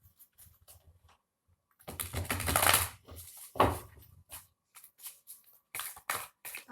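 Tarot cards shuffled from the deck: soft riffling rustles and brief papery flicks in short bursts, quiet and close, with near-silent pauses between.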